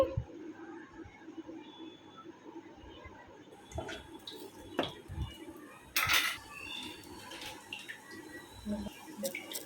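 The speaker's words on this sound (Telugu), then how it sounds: "తర్వాత మొత్తం ఇలా ఒకసారి ఫ్రై చేసుకోవాలండి" Ginger, garlic and coriander paste stirred in a pan for egg masala curry, faint frying with sharp scattered clinks and scrapes of a utensil against the pan, quiet and close, no talking.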